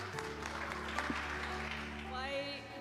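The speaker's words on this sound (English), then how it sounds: "Congresswoman Jayapal, please give her a round of applause." Applause from an audience at the US Capitol rises beneath a steady low hum and continues throughout, with a voice heard briefly near the end.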